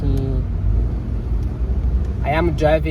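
Car interior on the road, a constant low engine and tyre rumble dominating, with a person starting to speak near the end.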